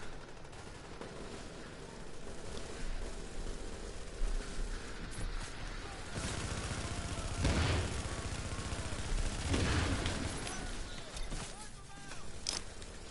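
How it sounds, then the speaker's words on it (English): Gunfire rattles in The Division video game, with sustained bursts of automatic shots over dense in-game noise, swelling louder in the middle and fading toward the end. "I've drawn their attention by shooting them like mad."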